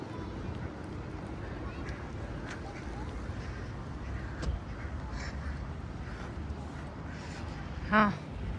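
A duck gives a short run of quacks near the end, over steady wind and outdoor background noise outside Oodi Library in Helsinki, with a voice talking earlier.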